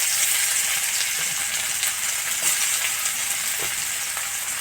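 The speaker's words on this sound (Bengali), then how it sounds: "ওই তেলে আমি দিয়ে দিচ্ছি পেঁয়াজ কুচি" Chopped onion goes into hot oil left over from frying bottle gourd and sizzles steadily up close. A broad, continuous hiss is broken by a few faint stirring taps, with no voices.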